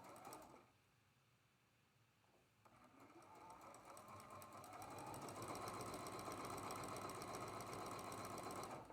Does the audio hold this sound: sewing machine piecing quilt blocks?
yes